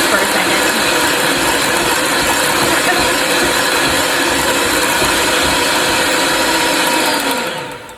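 An electric hand mixer beats pudding mixture for an Oreo pie, a loud steady mechanical whir and rattle running continuously before winding down at the end.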